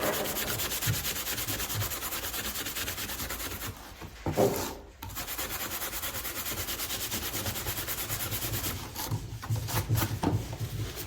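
Hand sanding of a wood finish with 180 grit sandpaper, a continuous close rasping rub of back-and-forth strokes, briefly pausing near the middle before resuming steadily, with no talk.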